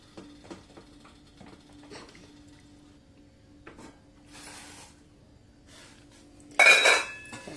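A stainless steel triply biryani pot is handled and opened, with faint scrapes and light metallic clinks followed by a louder clattering rush near the end.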